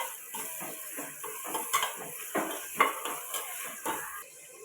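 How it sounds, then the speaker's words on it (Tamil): Tomatoes are sautéed with curry leaves and oil in a pan for tomato rice, with repeated light spoon scrapes and taps against the metal over a faint background and no speech. "தக்காளி சேர்த்துக்கலாம் தக்காளி குழம்பு நல்லா வதக்கி விட்டுக்கலாம்"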